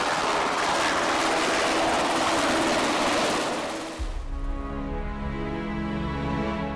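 A Helicopter Sea Combat Squadron 25 helicopter delivers munitions and supplies to the amphibious assault ship USS Bonhomme Richard during vertical replenishment at sea, a loud steady roar that shifts into a deep droning hum with a pulsing rotor tone.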